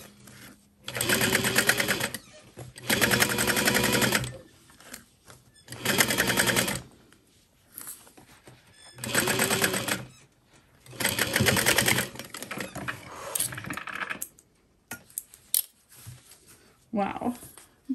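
Sewing machine stitching a backpack, a single row of stitching through the back, in several bursts of steady running with short pauses between, close and fairly loud, followed by quieter handling sounds.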